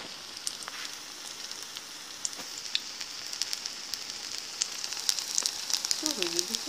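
Cherry pancakes made from kefir and flour sizzle in sunflower oil in a pan, a soft steady frying hiss dotted with small crackles and pops, fairly quiet and close.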